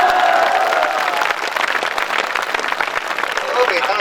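An audience at a night-time Hindi poetry recital (kavi sammelan) claps in steady, dense applause throughout, with crowd noise and some talking mixed in.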